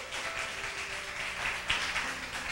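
Congregation at a church service clapping in welcome, a dense, even patter of many hands throughout with soft keyboard tones lingering beneath.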